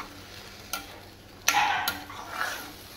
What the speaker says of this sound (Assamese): লোকেল মুৰ্গীখিনি দি দিলোঁ আৰু ধুনীয়াকৈ অলপ ইয়াত ফ্ৰাই কৰি ল'ম ৰঙাকৈ